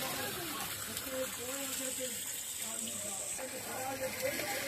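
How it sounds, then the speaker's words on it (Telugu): Water gushes steadily from a borewell pipe without a motor running, a continuous broadband hiss and rush that lasts the whole moment while someone talks over it. "ఇప్పుడు చూడండి నీళ్లు ఎంత బాగా పోతున్నాయి అంటే మోటార్ ఆన్ చేయకనే నీళ్లు అన్నీ వస్తున్నాయి"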